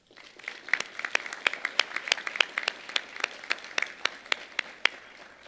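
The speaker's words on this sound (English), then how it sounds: "Please join me in giving your loved ones a huge round of applause." Audience applause at a medical school white coat ceremony on a Cherokee Nation campus, a moderate room of people clapping steadily with sharp individual claps standing out, heard at a slight distance.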